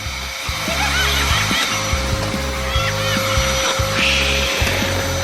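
A vacuum cleaner runs loudly and steadily, its motor pitch dipping briefly a few times as the suction changes.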